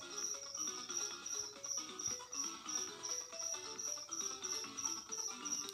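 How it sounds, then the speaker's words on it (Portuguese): Crickets chirp steadily and fairly faintly in the background, a continuous high pulsing trill under soft melodic music. "Vocês estão ouvindo os grilos aí?"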